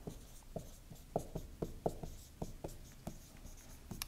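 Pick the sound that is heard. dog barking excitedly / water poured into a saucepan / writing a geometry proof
writing a geometry proof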